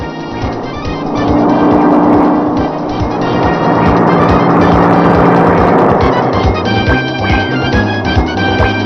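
A car speeds along a road in pursuit of a taxi, its engine a loud, steady roar that holds throughout with some rising revs near the end.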